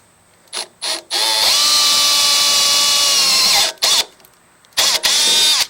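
A power drill bores through metal on an MTD 24-inch snow blower, heard close and loud in short bursts, then one long sustained whining run, then further brief bursts.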